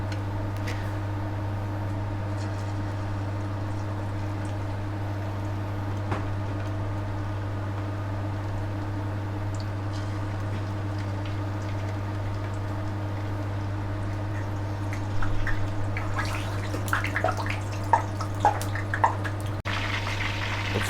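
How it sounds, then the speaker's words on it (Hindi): Fish pieces fry in hot oil for a second fry over medium heat, a steady, close sizzling hiss over a low hum that grows busier with popping spatters near the end. "अब हम फ़िश फ्राई करने लगे हैं। ये सेकंड फ्राई है।"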